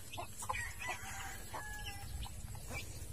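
Chickens cluck in a coop, with several overlapping short clucks and calls close by over steady low rumble, plus a faint crow-like cry, no talk.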